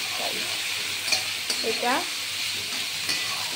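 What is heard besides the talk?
cauliflower frying in a pan with salt and turmeric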